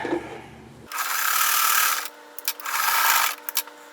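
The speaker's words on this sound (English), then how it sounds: "Sewing that together right down here." Sewing machine stitching 2.5-inch quilt fabric squares together, two loud, close bursts of steady running, the first longer, the second followed by a few short taps of the needle.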